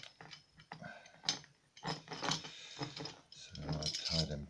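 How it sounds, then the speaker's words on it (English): Rope runs through a double pulley in short bursts, giving close, quiet ratcheting clicks and creaks with uneven pauses between pulls, mixed with faint handling noise. "And this rope will now be attached to the bottom pulley."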